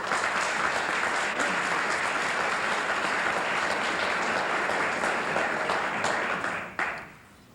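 Sustained applause from a large crowd, dense and even, going on for several seconds before stopping abruptly.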